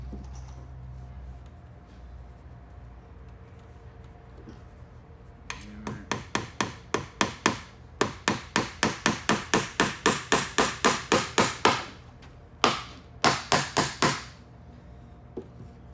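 A rapid series of sharp metallic taps from a hammer striking a nail set to set a rivet, in quick bursts with brief pauses between, close and fairly loud.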